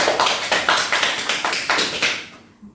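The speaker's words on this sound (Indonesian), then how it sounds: "Kita apresiasi dulu Cika dan memberikan aplaus ya." A classroom of students applauding together in a short, close burst of rhythmic claps that fades out after about two seconds.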